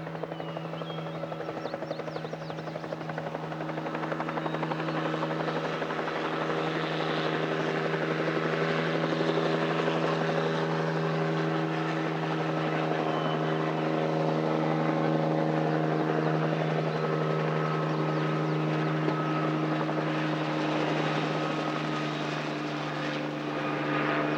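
A helicopter drones steadily overhead, its rotor thrum and engine whine loud and constant throughout, with no speech.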